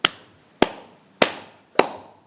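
Four sharp, evenly spaced hand claps ring out close and loud, each with a short decaying tail, alone with no talking.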